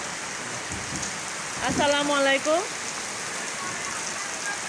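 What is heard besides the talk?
rain falling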